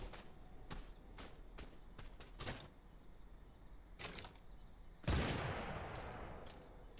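Scattered distant gunshots in the battle royale game Totally Accurate Battlegrounds, a handful of sharp cracks spread out over quiet background, ending in one louder blast with a fading tail.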